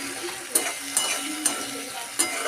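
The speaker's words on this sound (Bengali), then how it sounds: "সব গুঁড়োগুলো দিয়ে মশলার সঙ্গে নাড়াচাড়া করে দিয়ে দেব" Ground coriander, cumin and chilli powder fry in oil in a pan for a fish curry while a spoon stirs them, giving soft scraping with a few sharp clicks against the pan over a low sizzle.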